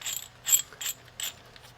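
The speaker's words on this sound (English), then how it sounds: "And as you crank, this will turn and push that piston down for us." A hand-cranked brake caliper piston compression tool, magnetically attached to a plate, ratchets in short clicking bursts as it turns to push the piston back on an Audi B5 S4 rear brake, close and moderately loud.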